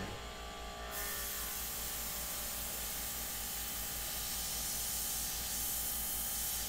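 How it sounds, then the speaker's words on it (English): Airbrush spraying paint for a portrait, a steady airy hiss that starts abruptly near the start and holds continuously, loud and close, with no talking. "I don't know what's happening with this airbrush."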